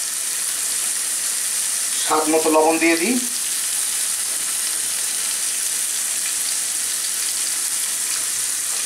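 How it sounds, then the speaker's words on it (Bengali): Hilsa fish frying in a pan with green and red chillies and salt gives a steady, close sizzling hiss throughout, with someone speaking briefly over it near the start. "এখন লবণ দিয়ে এটাকে ভেজে নিতে হবে"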